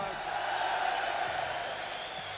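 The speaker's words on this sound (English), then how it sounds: "How about a nice round of applause from a young man from Norfolk?" Audience applause at a rock concert, a fairly faint, distant wash of clapping and crowd noise from the hall, with a steady low hum underneath.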